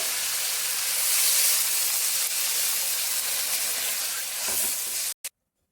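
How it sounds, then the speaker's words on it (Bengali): Water poured into sautéed Malabar spinach in a very hot pan over high heat sets off a loud, steady sizzle and steam hiss that runs for several seconds and then cuts off abruptly. "এবার আমি জল দিয়ে দিচ্ছি পরিমাণ মতো।"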